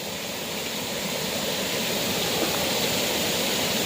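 Waterfall at Pasukin Falls, Ilocos Norte, giving a steady, full rushing roar of falling water that holds constant throughout, with no voices.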